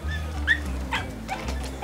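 A dog yips and whimpers from inside a suitcase in an airport, giving short muffled barks over a steady low hum, loud and close.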